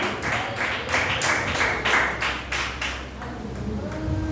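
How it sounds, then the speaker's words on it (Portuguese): A church congregation claps together in a fairly regular rhythm, loud and close, the sharp hand claps blending into a continuous pattered beat that carries through to the end. "as palmas que glorificam o nome do Senhor"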